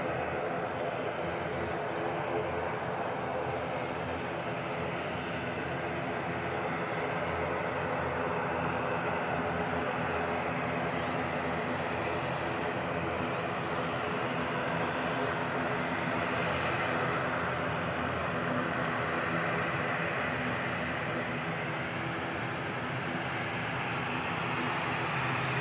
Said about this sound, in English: It's a very smooth and quiet landing then.